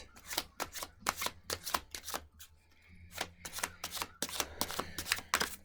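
Tarot cards are shuffled and pulled in rapid crisp riffles and slaps, close and fairly loud, coming in repeated bursts with a short lull midway.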